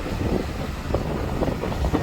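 Wind rushing over the microphone while riding a motorbike on a cold early-morning road from the Pratapgad side toward Mahad near Mahabaleshwar, a steady broadband roar with low buffeting throughout.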